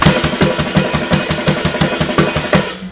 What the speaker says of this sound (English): it's going to come together and sound something like this at a slow speed.